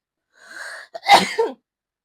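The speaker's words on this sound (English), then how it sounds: "I sneezed" A single sharp sneeze with a short inhaled build-up, close and loud, followed by silence.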